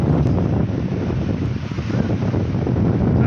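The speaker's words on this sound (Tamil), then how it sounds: "செம்ம காற்று அடிக்குதுங்க, அலையும் செம்மையாக அடிக்குது பாருங்கள்." Strong wind roars steadily across the microphone at Panambur beach in India, with the broad wash of sea waves surging and crashing underneath, loud and continuous with no voices.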